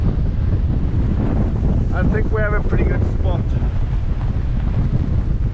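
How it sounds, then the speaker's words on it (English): Strong, steady wind roars across the microphone aboard a sailboat anchored in a cove in Antarctica, a constant loud buffeting rush, with a person speaking briefly underneath. "And it's pretty windy, but it seems like we have good holding."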